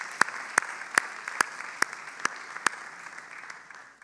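At a hotel management school graduation ceremony, sharp evenly spaced claps, about seven in a row, stand out over soft background applause that fades away toward the end.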